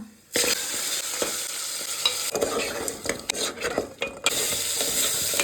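Garlic, mutton pieces and curry leaves dropped into hot oil for mutton rasam, giving a loud close sizzle and frying hiss with stirring and scraping of a utensil against the pot.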